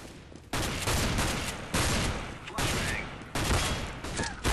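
Weapon fire in Counter-Strike: Global Offensive comes as four bursts of loud rapid gunshots, each cutting in sharply and then tapering off, close and dominant.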